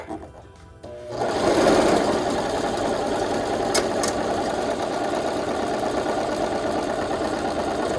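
An older Brother LS2300PRW sewing machine, just back from electrical repair, starts after a second of quiet and runs a straight stitch in a steady, even mechanical whir close by.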